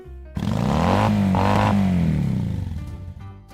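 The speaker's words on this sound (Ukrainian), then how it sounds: "Мотоцикл." A motorcycle engine roars loudly close by, revving up and then easing off over a few seconds.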